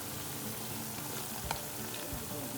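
French fries frying in hot oil give a steady, dense sizzle with scattered crackles and pops, close and even throughout.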